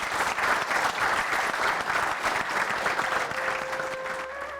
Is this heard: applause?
yes